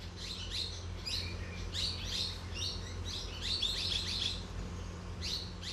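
Parrot calls in a Himalayan jungle, repeated bright chirping notes in quick bursts over a steady low hum of forest ambience, moderately near.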